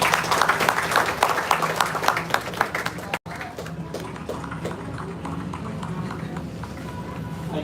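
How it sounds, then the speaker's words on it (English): An audience at a book launch breaks into dense, crowd-wide clapping to welcome a guest. It is loud for about three seconds, then drops to a quieter, scattered patter with voices murmuring beneath. "Ladies and gentlemen, clap loudly and welcome Mr."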